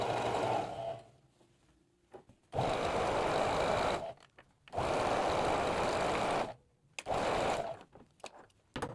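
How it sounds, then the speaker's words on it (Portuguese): A sewing machine stitches the centre back seam of a jumpsuit in repeated bursts of steady whirring, separated by short silent pauses, close and clear. "a gente vai fazer essa costura do centro das costas, unindo costas, com um pezinho de máquina"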